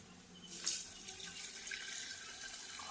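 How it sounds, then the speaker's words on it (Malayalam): Water runs and splashes steadily into a metal pressure cooker, a continuous close-up gush with no voices. "അപ്പോൾ വെള്ളം ഒഴിച്ച് കുക്കറിൽ ഒരു നാല് വിസിലിന് വേണ്ടിയിട്ട് നമുക്ക് വേവിച്ചെടുക്കാം"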